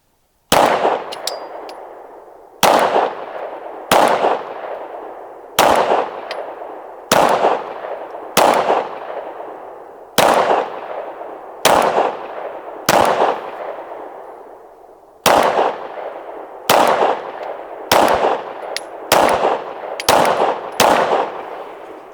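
Derya DY9 shotgun firing Remington UMC ammunition in a long series of loud, sharp reports, about fourteen shots with uneven gaps of roughly one to two seconds, each cracking sharply and then ringing off.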